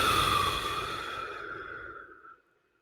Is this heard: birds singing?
no